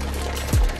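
Two cups of dry rice poured into a jambalaya pot, a short close burst of grains landing after near silence.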